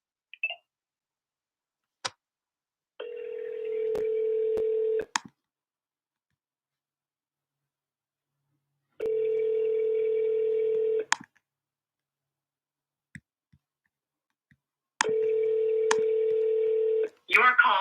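A phone line on a wholesale real estate cold call, with short dialing tones followed by three evenly spaced ringback tones, each about two seconds long, separated by silence and a few clicks.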